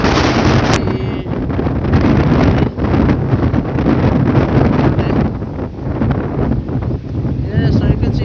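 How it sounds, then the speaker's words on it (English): Strong wind roars and buffets the microphone continuously at Ela Beach, Port Moresby, with rough surf churning underneath; no pauses, loud and close throughout. "The sea is quite rough and it's very windy."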